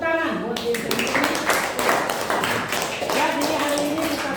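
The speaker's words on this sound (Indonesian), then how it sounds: "Tepuk tangan buat diri sendiri." A class claps briskly for about four seconds, a dense patter of hands close by, while people talk over it.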